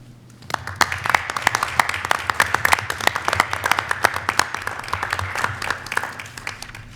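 A board meeting audience applauds the board president and members, a dense burst of many hands clapping together indoors that carries on steadily for several seconds before thinning slightly.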